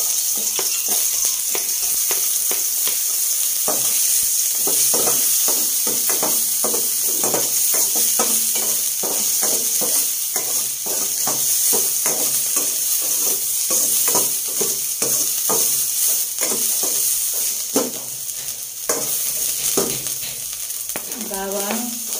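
Ginger sizzles steadily in hot cooking oil for a Filipino sauté, with frequent scraping and clattering as it is stirred in the pan; the frying hiss stays loud and close throughout.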